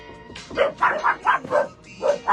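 Dogs barking in a quick series of close, loud yapping barks, about eight in a row, with no talk.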